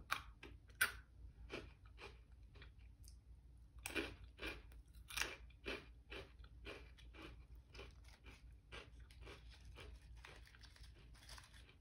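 Close, quiet crunchy chewing and biting of a cinnamon-flavoured snack, a run of sharp irregular crunches over faint background hiss, with no speech.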